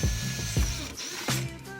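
A power drill bores holes into the top rim of a plastic planter, heard as a few short bursts of whirring and grinding with brief pauses between them.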